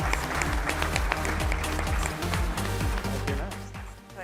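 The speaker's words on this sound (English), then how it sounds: "One more big round of applause for Blue Cross Blue Shield of Alabama." Audience applause for Blue Cross Blue Shield of Alabama at a corporate technology conference, steady and fairly loud crowd clapping over a throbbing musical bed that carries through the whole stretch.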